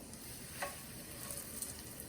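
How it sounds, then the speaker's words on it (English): Quiet, even sizzle of pork chops frying in hot oil in a pan, a soft continuous hiss with a few faint pops, nearby and without speech. "start adding our pork chops to the pan, and let's listen for that sizzle."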